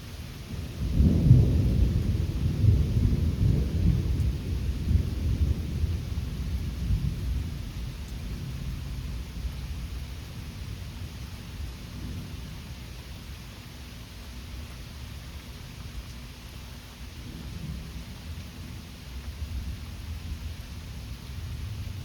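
Thunderstorm with a deep roll of thunder at the start that fades slowly into a steady hiss of rain and breeze, with a fainter rumble later; nobody speaks.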